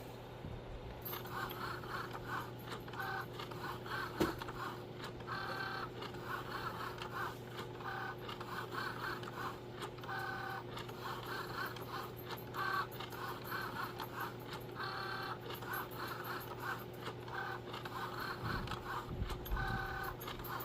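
A Cricut cutting machine runs through a design for a dragon-scale epoxy tumbler, giving a steady whirring motor drone with rhythmic carriage movements, close and continuous, with no talking.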